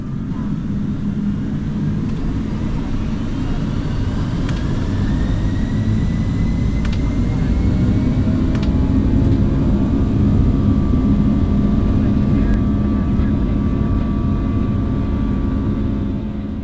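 A Delta airliner makes its night takeoff roll on runway 27 at San Diego, heard from inside the cabin as a steady low engine rumble that slowly swells, with faint rising whines above it.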